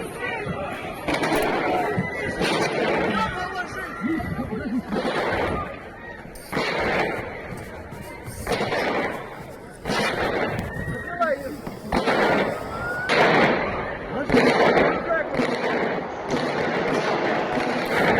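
Indiscriminate gunfire by uniformed gunmen inside a mall concert venue in Moscow, heard as repeated loud, sharp bursts of shots at irregular intervals over a continuous background of commotion and voices.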